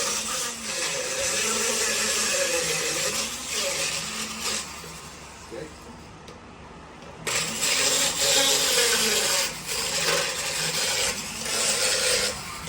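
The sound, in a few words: power tool with diamond burrs grinding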